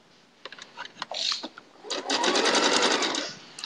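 A sewing machine chain-piecing log cabin quilt pieces, fitted with a plastic seam guide on its bed, runs in a few short bursts of close, rapid stitching, then a longer steady run, with no talking.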